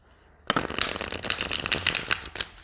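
A deck of tarot cards is shuffled in a steady, crisp riffling flutter lasting a couple of seconds after a brief quiet start, close and moderately loud.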